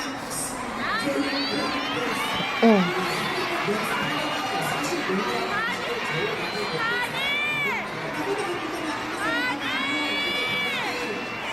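A large crowd of fans screams and cheers continuously at an AHOF fansign event at Robinson's Galleria, high shrieking voices rising and falling in waves, with no pause throughout.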